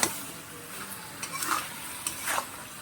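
A bean and prawn curry stirred in a pan, soft scraping strokes over a faint sizzle, close and quiet with no voices.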